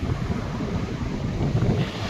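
Sea waves wash in at Mastram Dham beach, a steady, fairly loud roll of surf mixed with gusty wind buffeting the microphone, with no voices over it.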